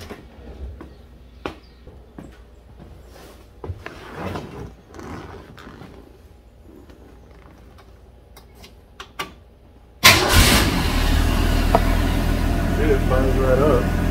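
A car engine starts abruptly, then settles into a steady, loud, continuous idle that fills the rest of the clip, preceded by quiet rustling and handling noises with no voices.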